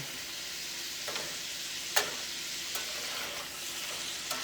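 Carrots and turnips are gently folded and stirred in a hot pan over high heat. A steady close sizzle is broken by a few soft scrapes and one sharper utensil knock.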